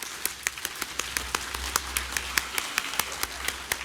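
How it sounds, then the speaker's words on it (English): A conference audience claps as fast as it can, giving sharp, rapid, evenly spaced claps at moderate distance with no talking over them. "Let's clap as fast as we can."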